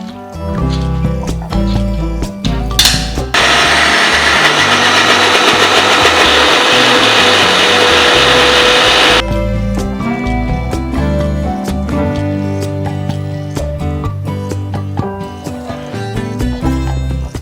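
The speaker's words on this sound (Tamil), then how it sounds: "அடுத்ததாக நம்ம வந்து உளுந்து அரைச்சிக்கலாம்" A mixer grinder runs on urad dal batter, a dense, loud whirring roar lasting about six seconds, set between stretches of background music.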